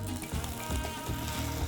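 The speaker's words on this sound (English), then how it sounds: "And that's the sizzle you wanna hear." Loud, continuous sizzling and crackling of octopus crisping in hot olive oil, close up, with no talking.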